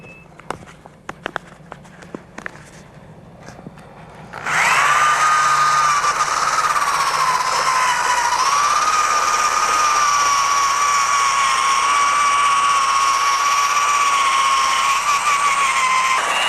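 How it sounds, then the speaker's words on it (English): A hand drill fitted with a sanding attachment starts up after a few faint knocks and then runs steadily and loudly, grinding loose paint and rust off a car body panel down toward bare metal. "What we're going to do now is take our drill and sand out the loose paint and rust."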